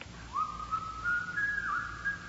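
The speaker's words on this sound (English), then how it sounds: "Somebody's whistling. It's Yankee Doodle." In a radio drama, someone whistles the tune Yankee Doodle, a single clear melodic whistle line that sounds faint and slightly distant over a low background hum.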